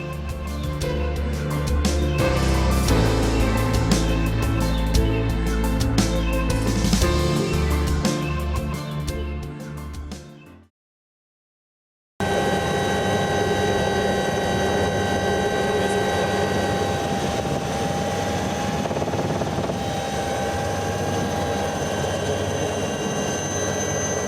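Loud music gives way to a short silence, then an Aérospatiale SA 315B Lama helicopter flies in the Haut-Valais in gusty wind, a steady, close turbine-and-rotor roar.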